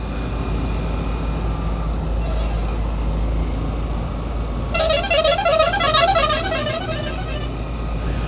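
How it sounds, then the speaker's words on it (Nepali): Traffic rumbles along a highway in Nepal, then a vehicle horn blares in a long warbling, musical honk for several seconds before the steady road noise continues. "जब यो हाइवेमा यस्तो खालको हर्न सुनिन्छ नि, मलाई चाहिँ एकदमै मनपर्छ है"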